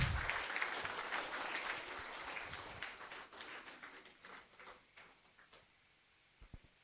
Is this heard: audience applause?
yes